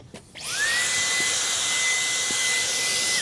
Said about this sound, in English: I just vacuum it up in the inside right here